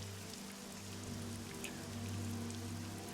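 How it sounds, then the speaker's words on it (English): Steady heavy rain pouring down, heard as a continuous close wash of patter with a low rumble beneath, swelling slightly toward the end as a door opens onto the downpour. "you are confronted once again by that torrent of rain that the sound just kind of floods in"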